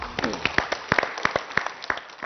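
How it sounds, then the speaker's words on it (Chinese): A studio audience claps in a short burst of applause during a food science programme about zhongzi, scattered sharp claps with a voice speaking over them. "来，掌声鼓励一下。"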